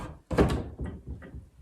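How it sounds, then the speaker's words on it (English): Door of a carved antique French cabinet swinging open indoors, a solid wooden thunk with creaks and soft knocks that settle over about a second and a half. "when you open the door"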